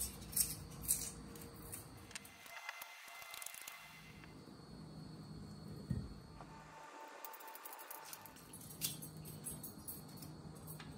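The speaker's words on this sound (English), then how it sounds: "So we're going to peel our cassava." A knife peels cassava for Guyanese egg balls in quiet, close scraping and shaving strokes, with two short pauses between bursts.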